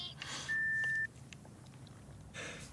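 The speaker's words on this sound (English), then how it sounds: "please leave a message after the beep" A single steady answering-machine beep sounds clearly for about half a second, with no speech around it, before a voicemail message is left.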